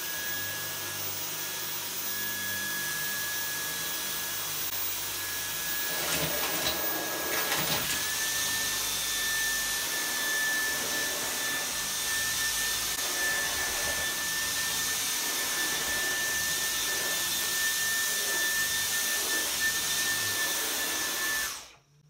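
A Dyson cordless vacuum cleaner runs at maximum power, a loud continuous high-pitched whine and airflow roar holding steady for about twenty seconds before cutting off abruptly, with no talking.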